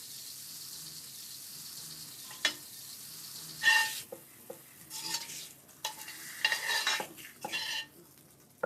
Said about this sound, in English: is adding a little bit of white wine with a very high, flame